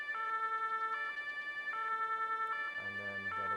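An emergency siren in Farming Simulator 22 cycles between two steady tones in a repeating pattern, fairly faint and electronic-sounding, with a lower tone joining near the end.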